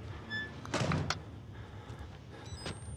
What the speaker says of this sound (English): Wait, close the door first.